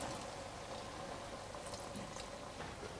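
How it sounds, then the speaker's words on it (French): Cold water is poured into a hot pan of spices and celery for a Moroccan meat dish, giving a steady, fairly soft sizzling and bubbling hiss that runs continuously with no talk. "Moi, ce que je fais là, c'est que je mets un peu d'eau."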